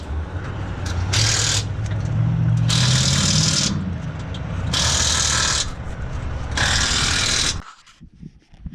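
Air tools at a truck stop, changing truck tires and working on broken wheel studs: four loud, hissing impact-wrench bursts of about half a second each, with steady engine idle between them, then sudden quiet.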